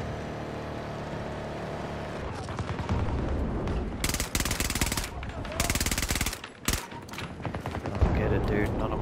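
Battlefield 2042 gameplay gunfire: rapid automatic bursts of shots, loud and close, in clustered volleys over a rumbling vehicle engine background, with bursts stopping and starting over several seconds.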